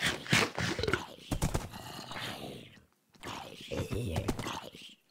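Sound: horse sounds, from video game Minecraft

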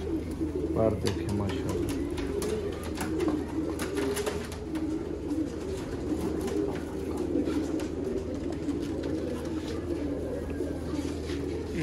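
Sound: pigeons cooing

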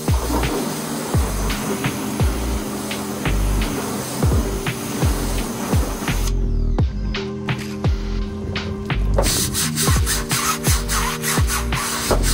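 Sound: plastic brush scrubbing foam on a Honda Civic's paint

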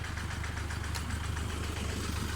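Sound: Toyota Vigo pickup engine running to pump water into rice field

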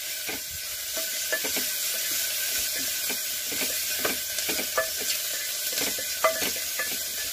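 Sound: coriander leaves sizzling in tempering for horse gram palya

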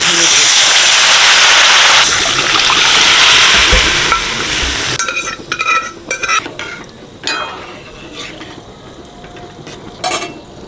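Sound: black gram dal frying in oil with asafoetida, chilli, turmeric

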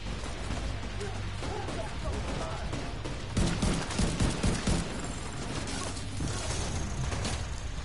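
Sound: gunfire hitting the player in The Division 2 video game

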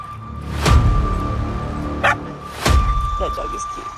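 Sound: puppy barking

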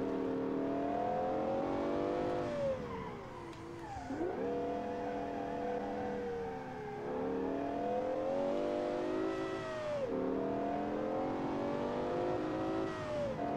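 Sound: mid-engine 90s supercar engine revving in the video game BeamNG

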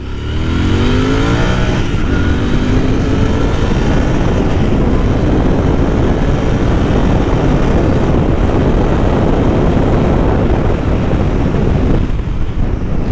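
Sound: Royal Enfield Continental GT 650 motorcycle engine revving

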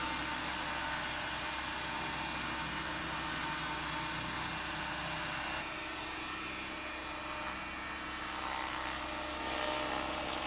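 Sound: RC helicopter throttling up to lift off

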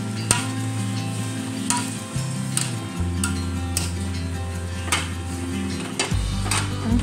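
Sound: chili added to pan, frying and stirring

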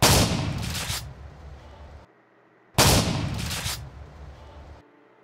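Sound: gunshot in GTA video game

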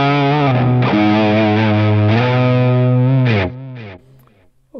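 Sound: electric guitar lead tone through Headrush delay effect

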